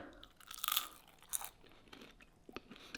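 A potato cooked in an Aldi microwave air fryer being bitten into, a few sharp, close crunches followed by scattered quieter chewing crunches, with no talking.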